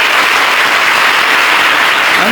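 A large audience bursts into dense, sustained applause at a Malayalam religious gathering, steady and loud throughout with no speech over it.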